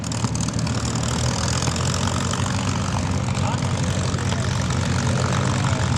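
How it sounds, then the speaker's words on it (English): Unmuffled piston engines of a B-25 bomber bark and rumble at an air show warbird display, loud and steady with a deep throbbing drone under a faint voice. "the B-25s with their barking light engine. There's no mufflers on the engines"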